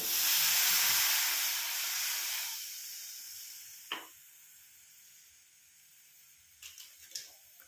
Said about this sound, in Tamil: இந்த தண்ணி வந்து கொஞ்சம் நல்லா கொதிக்கட்டும்.